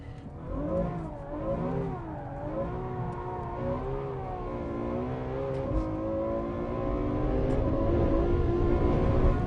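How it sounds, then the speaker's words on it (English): A Ferrari F12 at about 115 mph revs hard in fourth gear over a crest, rear tyres spinning, its engine note rising and falling, then climbing steadily and loud with no talk. "F12 leaping over a crest at 115 miles an hour, lighting up the rears in 4th gear"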